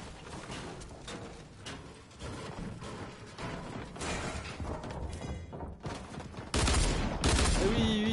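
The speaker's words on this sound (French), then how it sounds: "Ah oui, oui, ça me tire dessus." Gunfire aimed at the player in a video game: rapid mechanical clatter and shots, moderately loud, with a louder burst near the end, under a player's talk.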